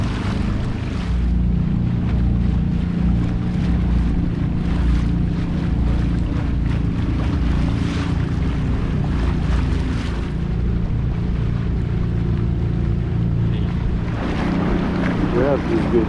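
A tour boat motors across the sea off Wied iz-Zurrieq, Malta, on a Blue Grotto cave tour, with steady engine and water rush, wind buffeting the microphone, and faint voices in the background.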